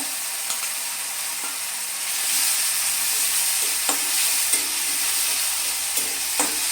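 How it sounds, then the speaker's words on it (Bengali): Ginger and garlic paste frying in a pan for a curry of young jackfruit, a steady close sizzle with occasional clicks and scrapes of stirring, no voices. "এটা আমি 2 মিনিট ভালোভাবে একটু কষিয়ে নিচ্ছি।"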